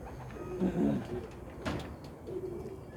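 Pigeons in a loft coo in soft, low rolling phrases, one call near and clear early on and another fainter later, with a brief clatter in between.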